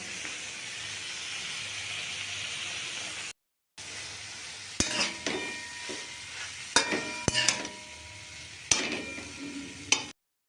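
Pre-steamed cabbage is stir-fried in a kadai, giving a steady sizzling hiss with a short gap, then scattered sharp clinks and scrapes of a spatula against the pan.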